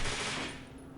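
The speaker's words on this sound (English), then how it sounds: "Oh, the terrorists are shooting." Gunfire from terrorists in a Batman video game, a dense, loud burst of rattling shots that fades over about a second with no talking.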